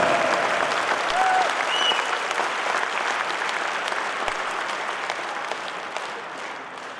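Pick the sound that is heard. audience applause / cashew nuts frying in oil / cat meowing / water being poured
audience applause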